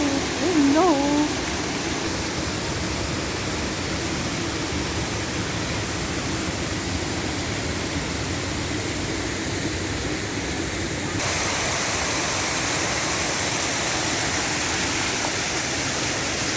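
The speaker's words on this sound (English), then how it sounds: "Now I reach this place with 100 pipes of water" Water pours from the Fuente de 100 caños, a fountain with a hundred spouts in Villanueva de Trabuco, Spain, making a constant, even rushing hiss that stays steady throughout, with a brief voice at the very start.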